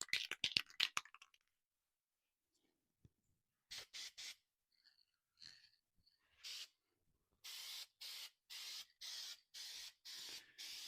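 Several short bursts of aerosol spray as light coats go onto a Chevy ignition lock cylinder part, hissing on and off in a steady rhythm, up close and loud, with quiet gaps between them.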